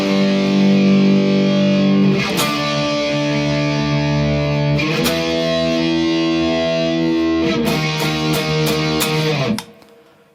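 Heavily distorted electric guitar hammers out sustained power chords for the four-bar bridge of a song, loud and thick with sharp re-attacks every couple of seconds, then choked off abruptly at the end.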